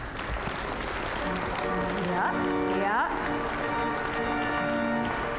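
A church congregation at a family Yule service claps and stomps its feet together, a dense steady roar of hands and feet under a voice speaking close by.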